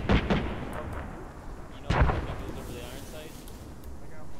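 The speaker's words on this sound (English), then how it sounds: "And I just shoot like in that general direction, and it works" Heavy gunfire and artillery thuds in a WWII video game battle at Kursk, with a few loud booming shots and scattered cracks over a rumbling battlefield background, under faint voices.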